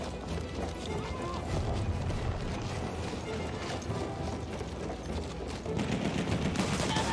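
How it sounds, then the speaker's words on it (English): Battlefield 1 machine gun fire rattles on without a break amid a dense battlefield din. Chatter and crackling fill the background, and the noise rises slightly toward the end. "That's a machine gun."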